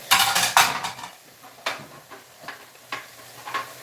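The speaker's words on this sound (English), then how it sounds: "I'll wash 3 plates." Plates and cutlery clatter in a kitchen sink during washing, a loud burst of ceramic knocks and scrapes at first, then sparser, quieter clinks spaced out, close by and with nobody talking.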